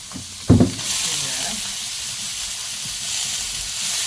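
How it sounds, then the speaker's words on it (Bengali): Cabbage drops into a pan of lightly fried prawns with a soft thump, then a steady bright sizzle rises and carries on evenly at close range. "চিংড়ি মাছটা হালকা ভেজে নিয়ে এবারে এর মধ্যে বাঁধাকপি দেবো"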